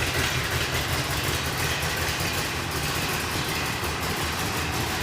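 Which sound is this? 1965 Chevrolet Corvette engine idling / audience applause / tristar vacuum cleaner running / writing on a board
1965 Chevrolet Corvette engine idling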